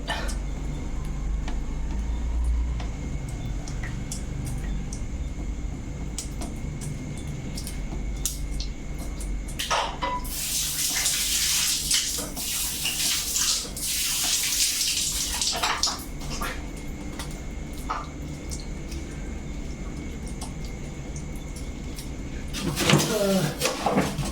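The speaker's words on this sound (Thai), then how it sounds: "เป็นน้ำหยด" Water drips and splashes on an integrated farm, with louder wet bursts midway and again at the end over a steady low background hum.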